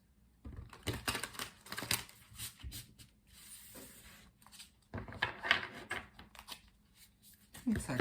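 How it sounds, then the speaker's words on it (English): Quiet, close crisp riffling and flicking of tarot cards being shuffled in irregular bursts. "Some shuffling first, of course."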